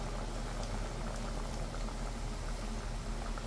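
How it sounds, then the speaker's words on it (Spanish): Chicken in wine boils in a pot over high heat, a steady, dense bubbling and simmering hiss that continues evenly throughout. "ya más o menos hirvió más o menos 5 minutos a fuego alto"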